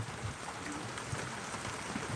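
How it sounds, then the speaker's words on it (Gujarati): Heavy rain pours down steadily in a dense, even hiss of falling water, fairly faint and continuous, with no voices. "વરસાદ આવી ચૂક્યો છે મિત્રો"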